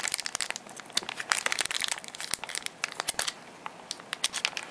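Foil Pokemon Expedition booster pack wrappers crinkle and crunch as they are pried open by hand, a dense run of sharp, close crackles and tearing rustles with no voice over them.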